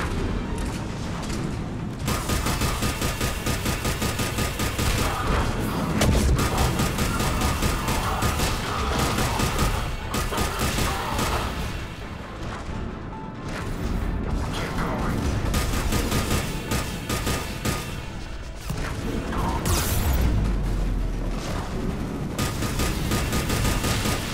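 Sustained gunfire from a Mass Effect combat scene, with dense bursts of automatic fire and thudding impacts rolling almost continuously, loud and close, with brief lulls and occasional shouted voices in the mix.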